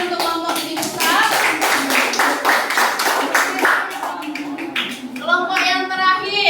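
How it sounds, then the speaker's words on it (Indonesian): Classroom applause for a student group that has just presented, a burst of children clapping their hands in quick, fairly loud rhythmic claps, with a teacher's voice speaking near the end. "tepuk tangan untuk kelompok titik pusat"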